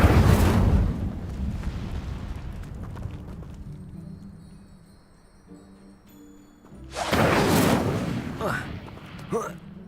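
A fire spell cast in the Hogwarts Legacy video game gives a loud roaring burst, fading to a quieter stretch, then a second strong whooshing blast with crackling. Game effects and voices sound throughout.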